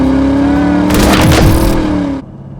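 A 1989 Ford Mustang 5.0-liter automatic convertible drives on a test run, its engine a loud, close, steady drone that swells into a rougher rumble midway, then drops away abruptly near the end.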